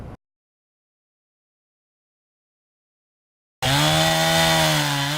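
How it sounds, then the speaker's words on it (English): A chainsaw cuts storm-uprooted trees by a roadside. After a long silent gap it starts suddenly, loud and close, with a steady high whine that wavers slightly as it bites into the wood. "Hundreds of residents are working overtime, sawing uprooted trees and moving them to the side of the road"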